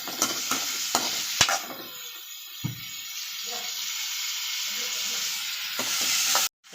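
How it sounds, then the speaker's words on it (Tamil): Chana dal and a green chili sautéing in oil while being stirred, sizzling hiss with a few scrape and clatter hits early on, close by, ending abruptly. "எண்ணெய் ஊற்றி வந்து கொஞ்சமாக கடலைப்பருப்பு இதில் ஒரே ஒரு பச்சை மிளகா போடுறேன் இதில் இப்போ நம்ம இதெல்லாம் கிண்டி விட்டுக்கலாம்"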